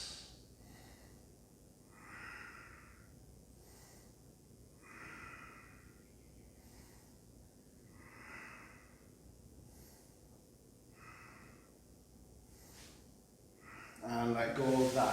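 Slow, steady Ujjayi breathing during a seated yoga twist, soft hissing breaths repeating about every three seconds, faint and close, with a louder rustle at the end.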